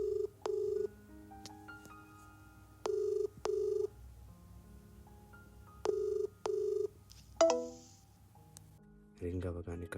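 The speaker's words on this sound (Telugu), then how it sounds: "రోజు తన ఫోన్ తీసుకొని వాళ్ళ నాన్న నెంబర్కి డయల్ చేసి" A telephone sound effect: dialing beeps followed by repeated paired ring tones, clean and moderately loud, with short gaps between ring bursts and a brief different tone near the end.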